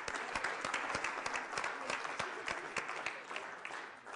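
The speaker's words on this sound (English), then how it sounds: "So should we give her another round of applause, folks?" A crowd of teachers at a TeachMeet gathering in a London hotel applauds steadily, a dense patter of many hands lasting a few seconds without pause.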